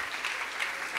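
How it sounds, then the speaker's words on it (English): Audience applause at a Southbank Centre talks event in London, a steady wash of clapping sustained through the whole moment, moderately loud and fairly close, with no voices over it. "Please keep the applause going for Mr. Paul Mason."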